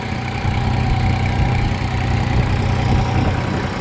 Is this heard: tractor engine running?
yes